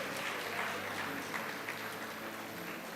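At a school Model United Nations closing ceremony, an audience claps for a commended student, a soft, steady patter of applause heard from a distance.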